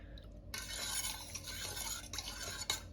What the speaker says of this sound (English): Mix the lime in.